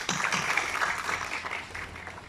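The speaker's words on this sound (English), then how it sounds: "they deserve applause from all of us" An audience at a surgeons' society meeting in Lahore applauds the previous president and team, a brief, soft patter of clapping that fades quickly.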